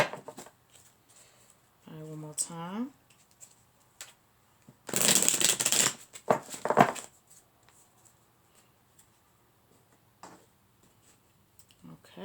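A crisp, fluttering riffle of playing cards being shuffled, a short burst with a quick follow-up, between brief bits of speech and quiet pauses.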